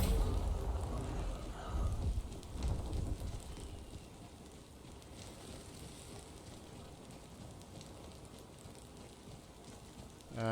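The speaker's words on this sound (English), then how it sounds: "it's raining on top of it" Steady rain falls in Skyrim (Lorerim modlist) around Bruma at dusk, a soft continuous wash that is heavier and rumbling for the first few seconds, then settles into a quieter, even patter.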